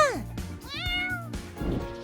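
A kitten meows several times close up, short high cries rising and falling in pitch, with small rustling between them.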